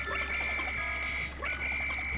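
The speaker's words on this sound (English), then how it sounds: "Those enemies spit water." Enemies in the Pikmin 3 video game spit water in a continuous splashing, gushing spray that dips briefly partway through, loud and close.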